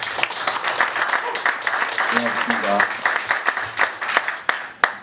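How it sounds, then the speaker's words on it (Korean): A lecture audience at a leadership academy gives dense, lively clapping that fills the whole moment, while someone briefly speaks over it. "뜨거운 박수 부탁드리겠습니다."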